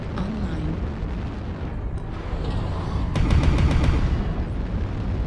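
Airstrike explosions in a mech video game: a dense, rumbling barrage of booms and rapid cracking blasts that builds louder toward the end.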